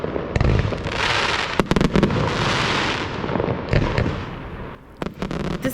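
Fireworks from a wedding venue across a river crackle and burst in rapid, irregular volleys, loud, busy and echoing, with sharp pops scattered throughout.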